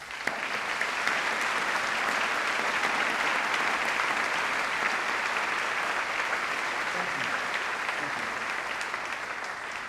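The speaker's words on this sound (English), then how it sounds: "so can we give them a round of applause?" Graduates and guests at a university graduation ceremony applaud staff, a broad, even wall of clapping filling a large hall and holding steady for around ten seconds.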